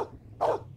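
A synthetic dog in the game Blade Runner gives a single short bark or yip, close and clear, after a quiet stretch of low room hum.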